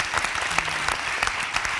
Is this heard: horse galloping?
no